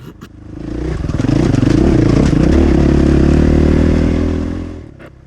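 A KTM 500 EXC-F dirt bike racing a rocky desert course in Topock, Arizona, mostly in third and fourth gear: a loud, close engine roar climbs and holds steady with rattling clatter, then fades away near the end.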